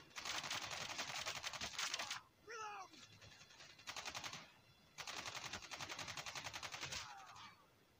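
Rapid automatic gunfire rattles in long, dense bursts in the mobile shooter Call of Duty Mobile, close and sustained. Short gaps between bursts carry quick reload-like clicks and whirs.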